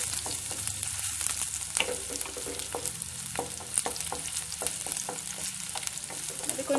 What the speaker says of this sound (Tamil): கொஞ்சம் ஃப்ரை ஆனதையும் இந்த வெங்காயத்தை நல்லா கலந்து விட்டுறலாம்